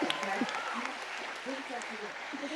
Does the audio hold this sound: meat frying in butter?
no